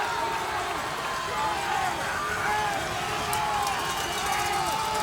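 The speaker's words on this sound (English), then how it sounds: "You hear the crowd down below." Crowd at a high school football game between Northwood and Jimtown, a steady distant roar of many voices filling the whole stretch without pause.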